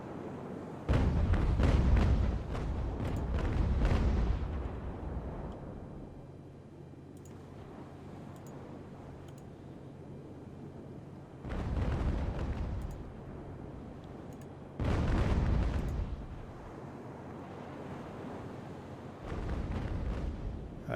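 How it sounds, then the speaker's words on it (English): Cannon broadsides boom from the sailing warship Centurion in Ultimate Admiral: Age of Sail, several heavy rumbling volleys a few seconds apart, each a rolling cluster of blasts fading into quiet gaps. "so the Centurion is now firing against their sails. And we're just parking him here, just firing broadside after broadside."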